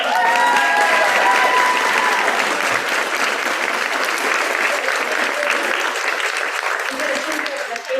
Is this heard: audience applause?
yes